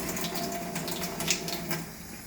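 Warm water streams steadily from a kitchen tap while red pea soup and rice and peas are being made, a constant close hiss and splash with no talking.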